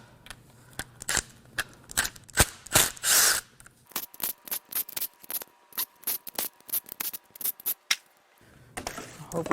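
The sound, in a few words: peeling valve covers off a Dodge Viper V10 engine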